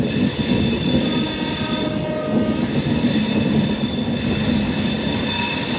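An Amrit Bharat Express train rounds a big curve just before Kollam station, its steady loud rolling rumble carrying thin, sustained wheel-squeal tones throughout with no voices.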